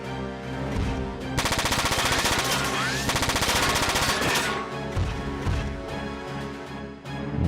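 Rapid machine-gun fire from mecha combat in the video game Front Mission 4, loud sustained bursts over game music, tapering off after a few seconds.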